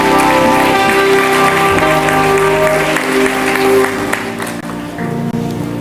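A church congregation applauds and cheers, a dense, loud, continuous roar of clapping and voices that fills the room and eases slightly toward the end.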